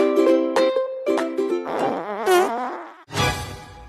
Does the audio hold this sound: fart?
yes